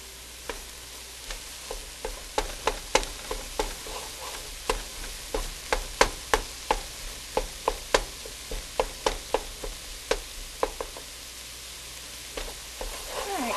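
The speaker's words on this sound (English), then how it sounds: "by putting the tomato paste in there and letting it cook, it kind of browns up" Tomato paste sizzling and browning in a soup pot for cabbage soup, with a steady low fry hiss broken by many sharp pops and crackles spread irregularly through the clip, close and fairly quiet, no talking.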